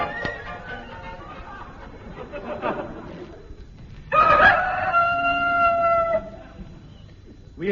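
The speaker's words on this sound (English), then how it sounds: "We included that recording of a cockerel for people who like that sort of thing." A cockerel crows loudly once, a long drawn-out call, after a stretch of clucking and low barnyard chatter, heard in a radio comedy show.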